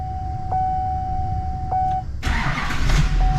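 A 2008 GM diesel truck with a glow plug fault cranks and fires up after a few steady dashboard chimes, the engine catching abruptly and settling into a loud, close idle with no talking.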